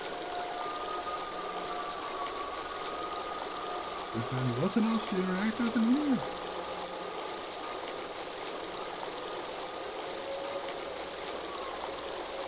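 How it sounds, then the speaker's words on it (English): Water pouring fast through a hole in the adventure game The Dig, a steady faint rushing stream under the whole stretch, with a person talking briefly in the middle. "Water is pouring through that hole at a tremendous rate."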